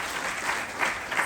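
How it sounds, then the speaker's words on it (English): An education summit audience gives a dense, steady round of applause that fills the room at close range. "So maybe we have a loud round of applause"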